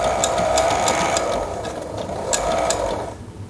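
A walking foot sewing machine locks a stitch at the end of a seam, giving a loud, close mechanical ratcheting with sharp periodic clicks over a gear-like whir, without talk.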